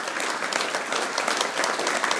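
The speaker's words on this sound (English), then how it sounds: "I think we need to give her a big round of applause" An audience at a supper gives the cook a warm round of applause. Dense, steady clapping from many hands fills the room throughout.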